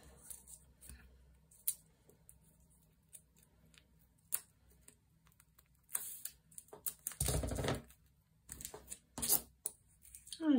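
Double-sided tape being pulled, torn and pressed onto card for handmade cards, quiet clicks and crinkles scattered through, then a louder stretch of tape peeling off the roll and sharp snips and taps near the end.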